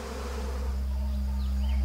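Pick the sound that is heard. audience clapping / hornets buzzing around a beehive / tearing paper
hornets buzzing around a beehive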